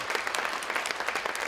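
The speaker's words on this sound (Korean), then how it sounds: "박수 한번 주세요" A church congregation gives a round of applause during a Sunday service, a soft, steady patter of many hands clapping, heard at a moderate distance.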